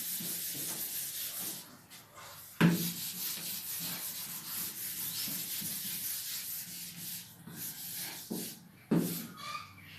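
Continuous rubbing and scraping of an eraser wiping writing off a classroom board, a steady dry swishing texture with two sharper knocks where the duster strikes the surface, close and unaccompanied by talk.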